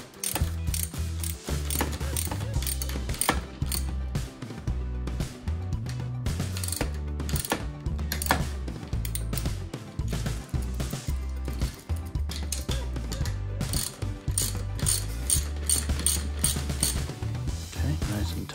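Continuous ratcheting from a hand ratchet tightening a wheel on a 3-in-1 dolly, a dense run of rapid clicks with steady rhythm, loud and close, with no talk over it.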